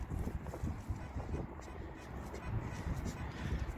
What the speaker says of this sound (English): It's a little bit windy, guys.